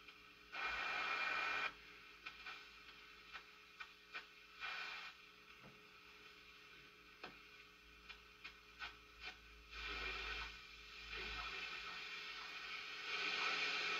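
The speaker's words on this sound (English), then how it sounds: "It's FT8 again. It's all over the place." An FT8 digital mode signal heard on a Hallicrafters S-120 shortwave receiver comes through as faint bursts of tonal data over radio hiss, broken by quiet gaps with scattered ticks and crackles.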